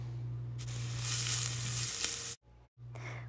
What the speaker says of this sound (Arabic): بنحط ملعقتين كبار من زيت الزيتون وبعدين بنضيف عليهم البصله وبنقلبها لحتى تكون آه، طريه